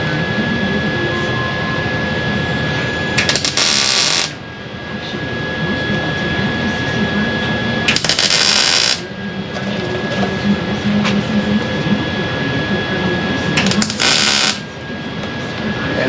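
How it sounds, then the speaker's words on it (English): Welding a rust-repair patch onto a Ford F250 body: a steady close crackling buzz runs throughout, cut by three short, loud bursts of harsher noise, with no talking. "And here I'm just welding and bridging the gap."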